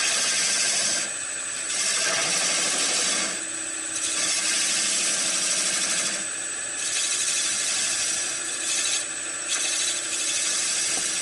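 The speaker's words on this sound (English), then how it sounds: "do a scraping cut with it" A wood lathe scraping cut on a turned ball bat, a loud, continuous close rasping drone broken by brief dips as the tool lifts off and re-engages, with no talking.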